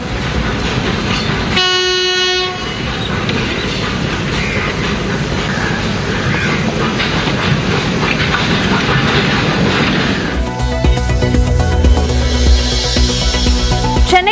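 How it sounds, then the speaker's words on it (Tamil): The Ooty mountain railway train rumbles steadily along the rails with rhythmic clatter, a loud horn blast near the start, and heavier clanking close by toward the end. "இருபத்தி இரண்டு நாட்களுக்கு பிறகு மீண்டும் இயக்கப்பட்ட உதகை மலை ரயில்"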